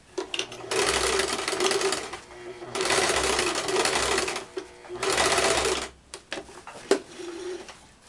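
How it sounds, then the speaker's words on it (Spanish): A sewing machine stitching a seam over the joining seam of a skirt's elastic waistband, three steady runs of rapid whirring separated by pauses, with soft handling clicks and brief talk between. "voy a pasar una costura sobre la costura de unión de la pretina"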